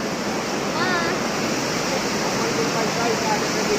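Water rushes and splashes in a steady, loud, unbroken roar, close by, with no pauses across the whole stretch.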